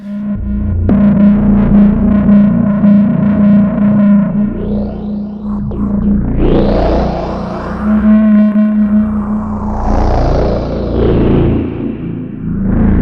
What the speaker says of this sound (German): Die analogen Dynamic Multicore Stereofilter haben eine eigene Drive-Sektion, um dem Klang den nötigen Punch zu geben.